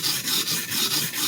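A knife blade rasps across a sharpening stone in quick, even back-and-forth strokes, about six close scraping passes in rhythm.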